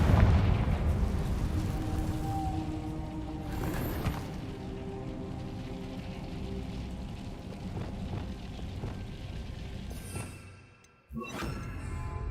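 Confringo fire spell in Hogwarts Legacy bursting into a deep rumbling blast, followed by further booming impacts and a brief gap before a final sharp explosion, all set against a dense low background roar.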